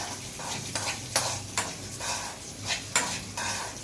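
Fried cashews and raisins are stirred into bottle gourd payasam, with a soft sizzle under repeated rhythmic scraping strokes of a spoon against the pot, fairly quiet and close.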